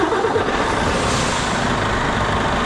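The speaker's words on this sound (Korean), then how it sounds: "자, 여기서 시동을 걸면 어떻게 바뀌냐 한번 볼게요." A vehicle engine fitted with a 24V bidirectional driving charger and lithium iron phosphate battery turns over and runs as a loud, steady, close rumble, with no talking.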